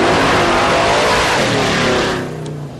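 A heavy truck engine in Texas revs hard in a loud, close roar that holds, then eases off toward the end.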